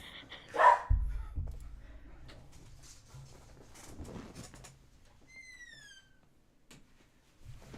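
Dogs bark in the background, a loud burst near the start and then scattered fainter yaps, with chirping and household noise around them.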